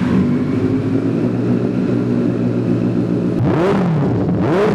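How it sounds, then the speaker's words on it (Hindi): A Benelli TNT 600i motorcycle idles loudly and steadily up close, then its engine is blipped twice in quick revs that rise and fall near the end. "तो जैसा कि आपको कहा था कि रिव्यू के एंड पर आपको इसका साउंड सुनाएंगे"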